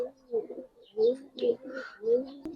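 Giribaz pigeons at a Bengali pigeon seller's stall coo in a steady run of soft, rounded calls, about four distinct coos spaced roughly half a second apart, near and moderately loud with no talk over them.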